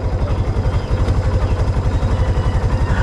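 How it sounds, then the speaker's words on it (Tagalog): A motorcycle engine idles while warming up, a steady low throbbing pulse running evenly throughout at close range, with faint rain-like hiss behind it. "pinapainit ko lang ng konti yung motor"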